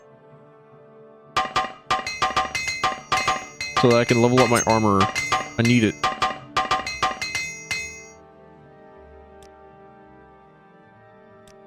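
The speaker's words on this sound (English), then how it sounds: "I gotta apply journeyman hammer." Armor is repaired with a journeyman hammer in Morrowind. Rapid metallic clinks and ringing strikes fall in a dense burst of several seconds, loud and close, while someone talks over them before they stop.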